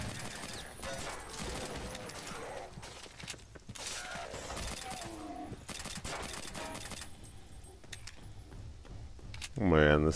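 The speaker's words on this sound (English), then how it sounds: "Man, this pistol is weak." Weak pistol fire in DOOM, a run of sharp shots scattered across a busy mix of game effects, with a voice speaking briefly near the end.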